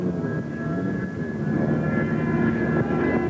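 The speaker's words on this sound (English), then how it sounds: "we have a plane that's a little bit out of control here" Sport jet flying at an air show, likely a model aircraft, a loud continuous engine roar with a steady whining tone that swells slightly toward the end, heard alone.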